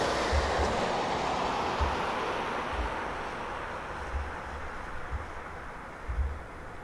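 A long CSX freight train rolls across a road crossing at a distance, its wheels giving a faint repeated thumping over a broad steady hiss of wind and rolling noise.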